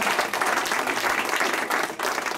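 An audience at a live radio show claps together in a brief, dense burst of steady applause, close and fairly loud with no speech over it.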